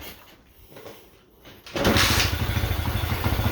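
A small pitbike engine on full choke cranks over quietly, then catches and roars into a loud, rough, rapidly pulsing run that holds steady to the end.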